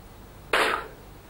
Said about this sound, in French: Des coups de feu partout.